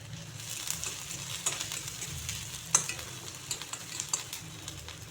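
Chopped garlic and ginger sizzle steadily in a frying pan, with soft stirring scrapes and occasional light clinks over the continuous frying hiss.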